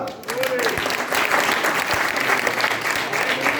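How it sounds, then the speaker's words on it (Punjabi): A church congregation at a building dedication meeting in Muktsar applauds, with steady, dense clapping from many hands throughout and a few faint voices mixed in. "ਕੀ ਤਾੜੀ ਮਾਰ ਸਕਦੇ ਆਪਾਂ?"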